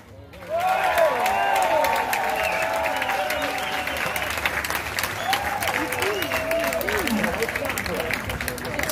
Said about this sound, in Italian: Vorrei sentire un applauso più che da concerto di musica classica, almeno da concerto di musica rock!